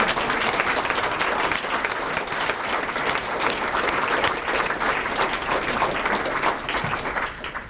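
A large seated crowd at an awards banquet claps continuously and loudly, a dense, even wash of applause that holds for several seconds before tapering slightly at the end.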